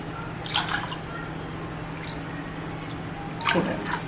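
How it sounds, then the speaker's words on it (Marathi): Water splashing into a pressure cooker holding masoor dal, heard as two short, soft pouring bursts over a steady low hum. "तीन वाटी पाणी टाकलेलं आहे"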